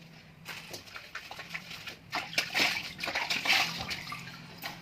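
Clothes scrubbed with soap and water, with irregular sloshing, splashing and wet rubbing sounds close by.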